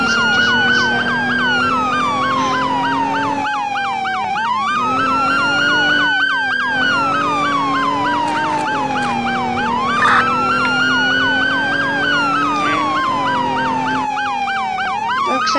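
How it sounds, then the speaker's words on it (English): A loud police siren in Roblox Emergency Response wails continuously up close, cycling through rising and falling tones with a fast yelping pattern underneath. "I forgot to put on my lights and the sirens."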